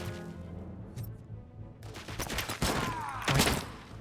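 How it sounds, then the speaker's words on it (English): Gunfire in the video game Robocop: Rogue City: quiet at first, then a burst of sharp shots and impacts builds toward the end, with clustered cracks and thumps at mid-range. "Someone's still shooting me."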